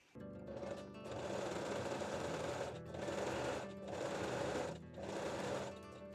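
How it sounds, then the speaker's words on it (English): A sewing machine sews a regular zigzag stitch over gently stretched elastic, running in three or four steady bursts separated by short pauses. "I am using the regular zigzag stitch"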